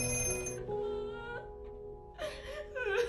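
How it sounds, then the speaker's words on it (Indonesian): A telephone in a dark thriller rings with a tonal, bell-like pattern that recurs in bursts over a low, sustained musical drone, loud and close with no one speaking. "tiba-tiba telepon berdering kembali"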